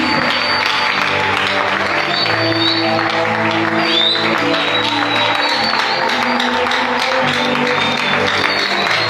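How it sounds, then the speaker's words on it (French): A church congregation applauds and acclaims loudly over sustained organ or keyboard and band music, the clapping and cheering forming a continuous dense wash for the whole span. "Acclamons très fort le Seigneur Jésus-Christ."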